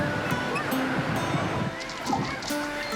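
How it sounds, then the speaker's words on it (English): Flowing water of the Soča River in Slovenia, a constant rushing wash heard close by, with people's voices faintly mixed in beneath the steady roar. "This is the River Soča."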